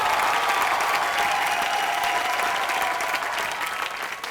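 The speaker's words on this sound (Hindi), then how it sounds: "रामू सर के लिए जोरदार तालियां।" A studio audience at a comedy awards show applauds for director Ram Gopal Varma, a dense, steady clapping that fills the room and tapers slightly toward the end.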